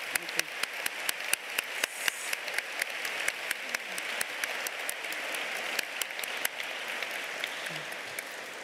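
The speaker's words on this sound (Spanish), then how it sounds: "La acogemos con un gran aplauso." Welcoming applause from an audience at a gathering as a guest, a religious sister, is greeted, with loud individual claps standing out over a softer sustained patter of hands, continuous throughout without talk.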